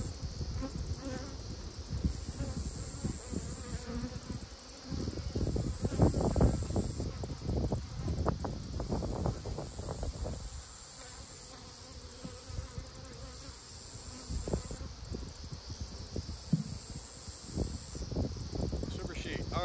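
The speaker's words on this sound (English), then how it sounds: "Bees in there." Honeybees drone steadily around hives in a cow-pasture apiary, a dense close buzz that swells and dips, with occasional thumps and handling noises from hive work.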